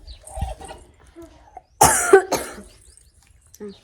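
A man coughing indoors, a loud burst of two or three harsh, throaty coughs near the middle, close to the mic, with quieter household sounds and faint murmurs around it.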